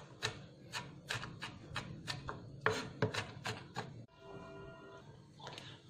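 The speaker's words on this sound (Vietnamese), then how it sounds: "Mình băm cho thật nhuyễn nha các bạn." Knife blade chopping and mincing garlic and chili by hand on a cutting board, a fast irregular run of sharp close taps with brief pauses, loud and alone.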